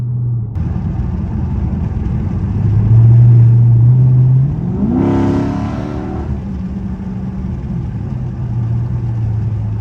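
A Dodge Charger SRT8 with a 6.4 liter engine on the freeway roars through a loud deep rumble, revving up with a rising whine mid-clip before settling back to a steady cruising drone.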